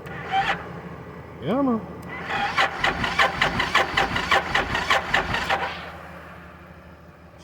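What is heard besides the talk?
car engine starting and revving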